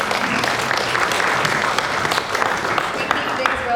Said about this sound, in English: Round of applause again for Mr. Paul Hirschman.